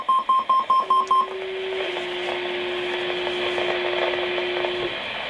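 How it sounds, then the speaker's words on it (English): Commercial fire alarm sounding, a burst of short repeated electronic beeps followed by a sustained steady tone, moderately loud in a room with low background noise. "oh, it's commercial fire alarm."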